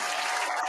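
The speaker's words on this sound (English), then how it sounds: "I'll give you the applause, bro." Steady applause from a crowd at a show of dope artists, dense clapping filling the whole short moment at a moderate, even level.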